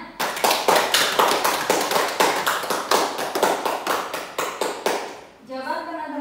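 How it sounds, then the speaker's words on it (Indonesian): A small group claps hands in a rhythmic, evenly spaced pattern of loud, sharp beats that continues for several seconds before stopping, followed by a brief bit of voice at the end. "Tepuk tangan."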